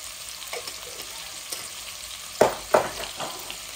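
Chicken cooking in a pot with potatoes, a steady low sizzle of frying with a few sharp stirring clatters and scrapes near the end, close and fairly quiet, no voices.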